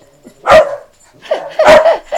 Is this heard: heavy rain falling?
no